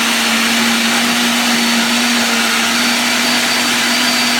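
Electric mixer whirring steadily through chocolate cake batter after milk and flour are added, a constant motor drone holding one pitch from start to finish, loud and close with no talking.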